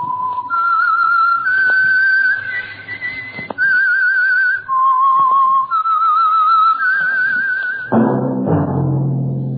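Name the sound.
whistled tune, signal for The Whistler radio program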